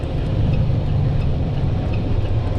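Truck engine running steadily while driving during a training lesson, a continuous low rumble with a constant drone, fairly close and alone without talk.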